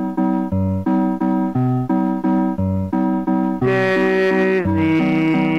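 A simple, bright synthesized melody plays from a ghost character in the VR game Gorilla Tag, with clean sustained notes in a steady waltz rhythm and no voices.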